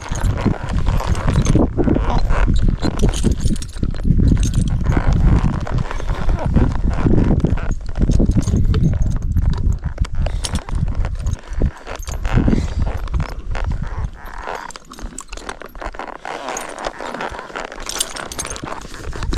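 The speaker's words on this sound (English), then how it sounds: "It's so hard to text when you're hanging on to a horse that's not behaving." Horse hooves clip-clop steadily and loudly up close as the animal is ridden out searching for missing cows, with tack jangling and faint movement noise throughout.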